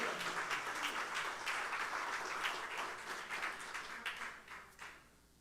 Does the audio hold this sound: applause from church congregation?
yes